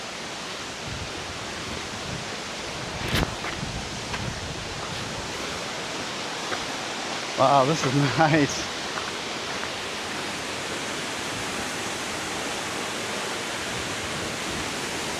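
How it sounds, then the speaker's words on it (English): Steady broadband rush of Horsetail Falls in Oregon, constant and fairly loud throughout, with a brief spoken remark partway through. "I come by here and seen this waterfall."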